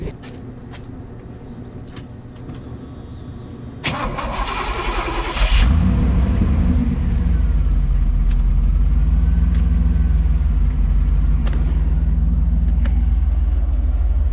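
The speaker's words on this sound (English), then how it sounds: "start it up, let you guys listen to it" A 1983 Pontiac Trans Am Crossfire Injection engine cranks for a few seconds, then catches and roars to life, settling into a loud, steady idle rumble.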